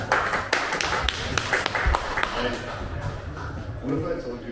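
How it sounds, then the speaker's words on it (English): Scattered applause from the audience at a Melbourne Silicon Beach live tech meetup, a few sharp claps over a murmuring room that thin out and fade after a couple of seconds. "Applause for Andrew."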